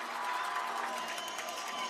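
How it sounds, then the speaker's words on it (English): Sustained crowd applause and cheering from the Victor home fans at a high school football semifinal against Brighton, a steady, dense roar of clapping and shouting with no break, sounding like a standing ovation after a touchdown. "You can hear a standing ovation from this Victor crowd"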